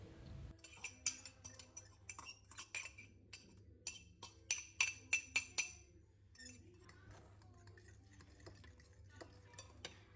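Repeated light clinks and scraping of a fork mixing spinach into egg yolks in a bowl, brisk and close, with a steady low hum underneath and no voices.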